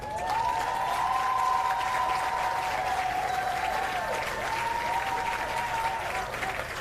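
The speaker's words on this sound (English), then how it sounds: "And a rousing round of applause for Lorenzo Dowse" Audience applause at a national honours and awards investiture ceremony, sustained even clapping throughout, with a held tone from music or feedback running over it.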